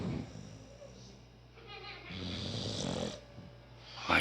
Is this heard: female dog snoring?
yes